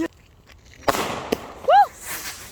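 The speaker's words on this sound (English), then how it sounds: "Today we're watching fireworks." Fireworks exploding at a Victory Day celebration in Ajax, a couple of sharp bangs and crackling bursts at a moderate distance, followed by a person's loud whoop.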